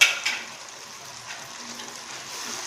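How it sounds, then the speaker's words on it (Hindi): Masala with a spoonful of kasuri methi roasting in a pan for aloo gobi, giving a steady soft sizzle with faint stirring scrapes, close and alone throughout. "मसाला मेरा अच्छी तरह भुन चुका है।"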